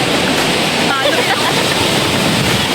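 Loud, continuous roar of a waterfall rushing below a hanging bridge on a trail in Dingalan, Aurora, with people talking faintly over the steady wash of water.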